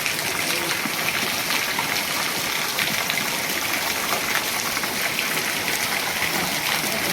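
Heavy rain pours in a steady, dense roar of water that stays even and close throughout the storm, with no distinct thunder claps standing out.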